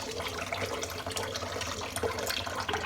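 Warm water runs and splashes while a cat is rinsed, a steady busy spatter of flowing water with irregular bursts, close and moderately loud, no talking.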